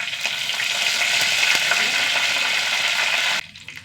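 Curry leaves hit hot coconut oil with mustard seeds and dried red chillies, giving a loud, steady sizzle and crackle that cuts off sharply near the end.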